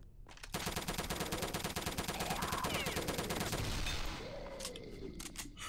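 Rapid pistol fire from a Ruger in Return to Castle Wolfenstein rattles in a steady stream of evenly spaced shots for several seconds, then stops, leaving fainter game sounds.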